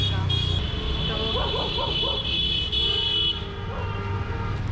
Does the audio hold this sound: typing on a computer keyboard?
no